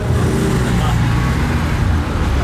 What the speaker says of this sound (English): Zonda has arrived.